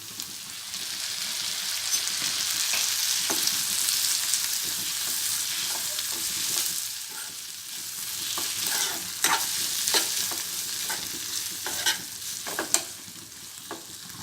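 Onions fry in a pan for pepper egg fry, giving a dense, even hiss of sizzling oil that later thins out under scattered stirring clicks and spoon taps against the pan.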